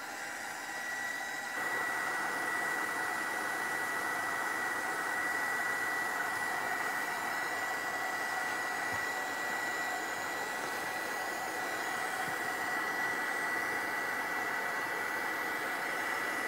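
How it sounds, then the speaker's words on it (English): A hair dryer blows steadily at close range to dry mica powder paint on an altered toy horse. It makes a loud, continuous whooshing hum that switches up after a short start and runs unbroken. "now drying a little bit and then we continue to the top."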